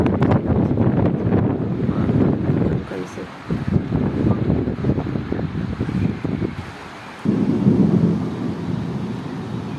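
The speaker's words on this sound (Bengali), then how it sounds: "এত বাতাস, এত বাতাস, ঝড় উঠে আসছে, ঝড়। বৃষ্টি অলরেডি শুরু হয়ে গেছে।" Gusty storm wind roars and buffets the microphone with low rumbling, the blasts rising and dropping in waves as rain begins, with a voice heard at times.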